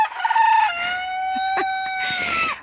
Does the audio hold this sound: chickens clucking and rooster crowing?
yes